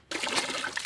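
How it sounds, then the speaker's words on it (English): A small splash of water pours into molasses in a container, a short continuous trickle heard up close. "I will add a little bit of water in there."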